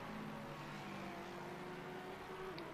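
Porsche race car engine in a sim racing game at the Red Bull Ring, a steady droning whine held throughout at moderate level, with other cars close by in a slipstream battle.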